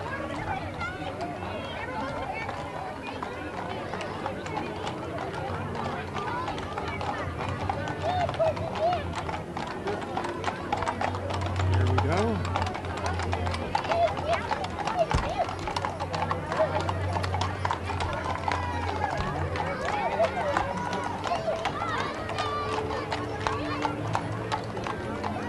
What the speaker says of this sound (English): And we have horse riders from Woodland.